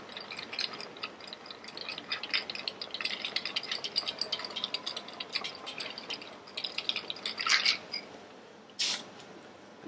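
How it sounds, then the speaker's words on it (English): A spoon stirs a Croft Pink port drink over ice, light rattling clinks and trickles running continuously up close, with a sharper clink near the end. "we're going to stir this drink"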